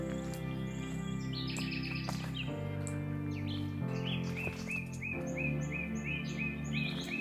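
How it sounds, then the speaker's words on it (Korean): Birds chirp and trill at dawn along the Camino de Santiago near Logroño, Spain, with several overlapping songs over a steady low background hum and no talking. "이런 새소리를 계속 들으면서 걷다 보니"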